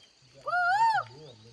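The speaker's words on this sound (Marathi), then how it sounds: "अरे मोर पण आवाज देतो का कोयल देत ही" A single bird call rises and falls in the early morning in rural Ratnagiri, clear and fairly close over quiet surroundings, fitting a peacock or koel.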